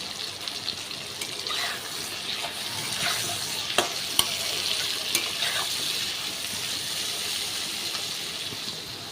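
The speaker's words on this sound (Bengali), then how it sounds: "বেগুনটা একটু ভাজা করে নেব।" Eggplant fries in a pan with a little turmeric, giving a soft, continuous sizzle. A few sharp clicks and taps from stirring stand out near the middle, and no one speaks.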